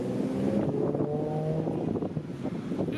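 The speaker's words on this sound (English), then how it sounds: "The wind's kicking up, and we're right beside a highway" Wind gusting beside a highway, a steady, loud roar and buffeting against the microphone mixed with low passing traffic rumble, with no talking.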